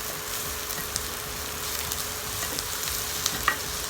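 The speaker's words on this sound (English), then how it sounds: "Give that a stir. Allow your onions to sweat down." Onions and ginger sweating in a pan for a cauliflower and chickpea curry, a steady moderate sizzle broken by a few soft clicks and spoon scrapes as the mixture is stirred.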